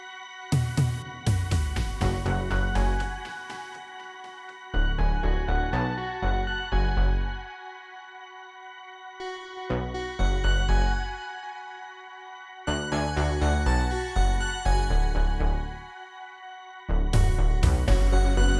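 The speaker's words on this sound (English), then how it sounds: "let's listen to synth remix of the melody" Bright synthesizer melody in bursts separated by short gaps, sustained harmonic tones over a punchy low end, loud and close with no voices.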